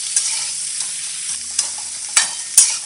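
Potatoes sauté in a pan for a farali potato dish, a faint, hissy sizzle under a few sharp spatula scrapes and taps spread over a few seconds, up close and free of speech.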